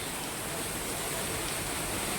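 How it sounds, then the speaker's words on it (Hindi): Heavy rain pours down on a Delhi street, a dense, even hiss of water that fills the whole clip at constant loudness with no voices. "और ख़तरनाक वाली बारिश आ रही है जिसे कहते हैं"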